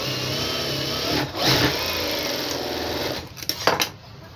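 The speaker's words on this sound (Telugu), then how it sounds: "ఈ చివరి వైపున మనం స్టిచ్చింగ్ అనేది వేసేసుకోవాలి" A sewing machine stitches the lining of a blouse, running in a close, steady whir that briefly surges, then slows into a few sharp mechanical clicks near the end.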